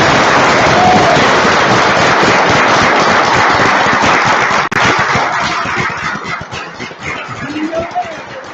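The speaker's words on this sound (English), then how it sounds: "Please give a warm round of applause for our Claire Ferris Award winner this year" An awards ceremony audience breaks into loud, sustained applause, many hands clapping densely and close for several seconds before it thins out toward the end.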